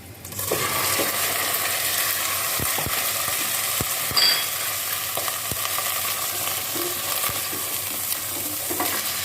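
Bone-in chicken hits hot oil scented with opened cardamom pods for a restaurant-style chicken karahi, setting off a loud, steady sizzle after a short quiet start, with a few sharp clicks and clatters.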